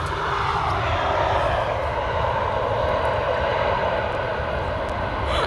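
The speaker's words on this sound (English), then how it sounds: "an Airbus A320." A Transavia Airbus A320 arriving from Seville roars steadily on final approach to Amsterdam Schiphol's Polderbaan runway, a loud, continuous broadband engine rumble with no talk.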